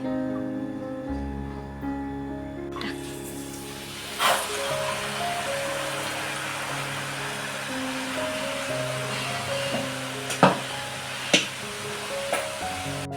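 Sev dough is pressed into hot oil for Diwali faral and fries with a steady, dense sizzle that starts a few seconds in and keeps going, broken by a few sharp knocks of the press, over faint background music.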